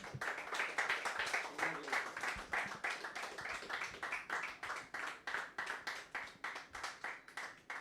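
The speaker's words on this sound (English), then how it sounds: "a huge round of applause" An audience at an esports tournament grand finale prize ceremony gives a round of applause, a steady wash of clapping from many hands pulsing throughout, fairly distant and faint, with no one speaking over it.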